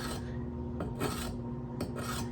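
Knife edge of a Protech TR-3 in Magnacut steel being deliberately dulled, a steady close rasping scrape that runs continuously with two brief stronger strokes, alone without talk.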